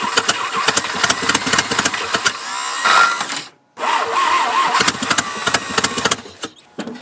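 An 80-year-old abandoned Jeep's engine cranks in repeated rapid bursts, loud and close, pausing briefly in the middle before cranking again in choppy starts that never settle into a run.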